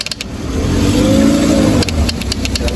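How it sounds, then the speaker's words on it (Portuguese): A Crosser 150 motorcycle with a noisy engine and a low battery revs up loudly and close, holding a rising drone for about two seconds before dropping back to a rough idle. "Liga a moto pra gente aí e acelera."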